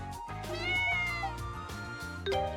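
A game cat in Ys: Memories of Celceta gives a couple of clear, close meows over soft background music, with no talking.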